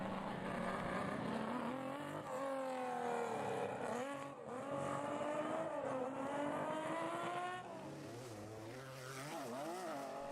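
Historic rally cars, a Lancia Stratos and Porsches, racing on twisting stages, engines revving and rising and falling in pitch as they accelerate and shift, loud and continuous with no talk.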